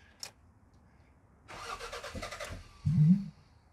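A 30-year-old Toyota MR2's engine, with 270,000 miles, cranks rapidly for about a second and a half, sputters briefly without catching, then goes quiet. A click comes before the cranking.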